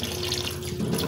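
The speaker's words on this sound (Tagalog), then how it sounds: "Simulan na natin ang maghugas ng plato." Tap water runs steadily into a kitchen sink during dishwashing, a close, continuous splashing gush lasting the whole second with no talk.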